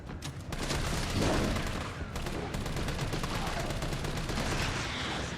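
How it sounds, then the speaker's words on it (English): Sustained gunfire in the video game Resident Evil 3 Remake, rapid repeated shots forming a dense, loud fusillade that runs nearly continuously with brief gaps. "rinse this fucker with gunfire"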